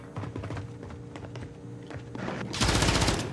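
Bursts of automatic gunfire in the video game Call of Duty, rapid clattering shots growing louder and denser toward the end, with faint keyboard-like clicks underneath and no talking.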